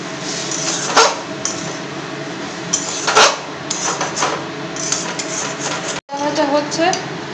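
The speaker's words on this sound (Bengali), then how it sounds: "এরপর আমি মশলা ধোয়ার যে জল ছিল, সেই জলটা একটু দেবো, দিয়ে এবার ভালো করে ভাজবো।" Spices being fried with a splash of water in a pan for dalpuri, giving a steady sizzle broken by metal clinks and scraping stirs, close and fairly loud.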